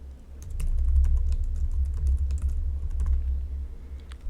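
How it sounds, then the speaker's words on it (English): Fingers type a name on a computer keyboard, a quick uneven patter of light key clicks running for several seconds, close and clear over a low steady hum, with no speech. "We're going to type in a name."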